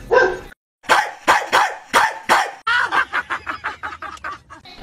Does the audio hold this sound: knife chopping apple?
no